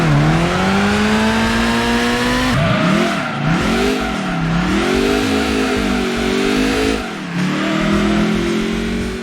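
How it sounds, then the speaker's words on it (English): Loud car engine in Gran Turismo 2 revving and shifting, pitch climbing then dropping through gear changes, close and continuous with no talking. "The sounds of engines in general have character now."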